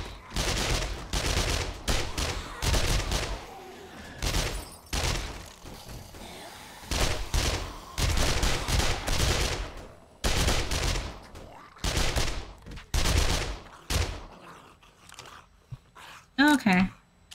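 Gunfire in the video game 7 Days To Die, loud repeated bursts of shots in quick fusillades with short pauses, fired from atop a truck, while a voice talks between and over the shooting.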